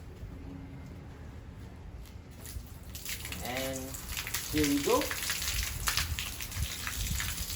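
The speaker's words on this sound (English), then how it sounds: "test it by opening the water tap" Water gushes from a freshly opened tap through a repaired garden hose, a hissing spray that starts partway in and keeps going steadily, with a brief spoken line over it and a squeak near the middle.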